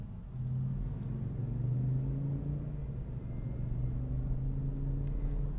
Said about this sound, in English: this tow truck is making a right turn